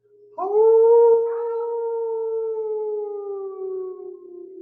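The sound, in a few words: people imitating wolves howling at the moon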